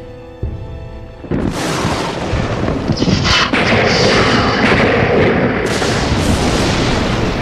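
Tree bark bursting apart from a lightning strike, a sudden loud blast followed by a dense rumbling, crackling roar that holds steady and close to the end.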